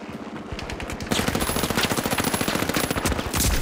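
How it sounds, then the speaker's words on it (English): Rapid automatic gunfire in the video game The Finals, rattling nonstop, dense overlapping shots close and loud throughout. "I gotta get out of there because there's gunfire everywhere"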